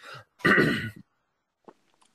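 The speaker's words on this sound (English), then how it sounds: "He has to clear his throat." A single short, gruff throat clearing close to the mic, followed by a brief quiet pause and a faint small sound.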